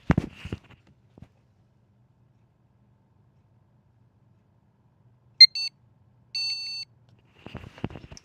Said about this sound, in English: then 4 very fast beeps